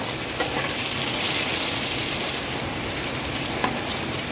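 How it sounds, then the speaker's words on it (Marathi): Pomfret fish frying in hot oil for an Agri-Koli style fish thali, a steady close sizzle and crackle throughout with a couple of sharp pops, no voices over it. "सुरुवातीला दोनच पापलेट तळून घेते म्हणजे जास्त ना अडचण होणार नाही तळायला"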